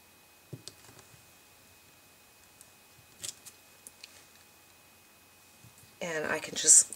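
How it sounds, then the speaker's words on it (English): Scissors snip the edges off a stamped paper piece for faux washi tape crafting, giving a few faint, sparse clicks and snips spread over several seconds, followed by someone talking. "And I can just cut those edges off."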